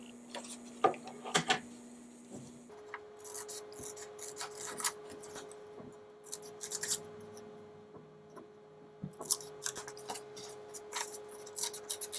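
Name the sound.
scissors cutting out paper owl eyes and beak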